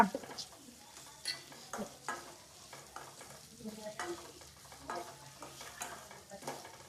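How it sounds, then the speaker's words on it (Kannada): Two tomatoes frying in a pan for paneer gravy, soft sizzling under repeated scrapes and clinks of a spatula stirring against the pan, close and moderately quiet with no talk. "ಇದನ್ನ ಫಸ್ಟ್ ಫ್ರೈ ಮಾಡ್ಕೊಳ್ಳೋಣ."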